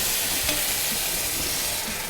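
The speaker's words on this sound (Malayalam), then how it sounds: "നമ്മൾ തിളച്ച വെള്ളം നമ്മൾ ഒഴിച്ചു." Boiling water is poured slowly into a pot of prawn biryani, producing a loud, continuous hiss and sizzle close by without pause and with no talking.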